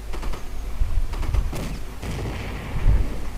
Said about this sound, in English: Open fire with all the guns.